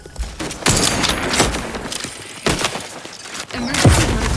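A burst of gunfire and booming grenade blasts rings out in the sci-fi shooter The Outer Worlds 2, with loud repeated explosions and shots in quick succession, several heavy thumps separated by short gaps.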